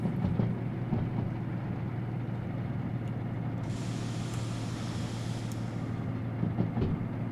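Freight train rolling on rails in the railway simulator game Derail Valley, a steady low rumble and wheel noise with a brief hiss of air brake midway, continuous and fairly close, with no voices.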